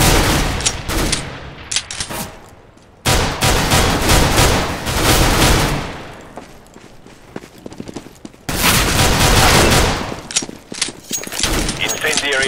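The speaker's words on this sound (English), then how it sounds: "Throwing grenade." Gunfire in a Counter-Strike-style match on the map Cache comes in loud, dense bursts of rapid shots separated by quieter gaps, with voices talking over parts of it.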